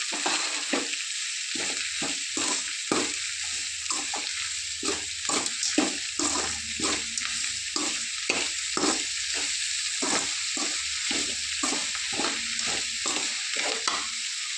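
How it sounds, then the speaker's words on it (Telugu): Salted onions fry in a pan while a spoon scrapes and stirs in a regular rhythm, close crackling sizzle underneath with repeated knocks and scrapes throughout. "స్టార్టింగ్లోనే సాల్ట్ యాడ్ చేసుకుంటే ఆనియన్ తొందరగా వేగుతాయి"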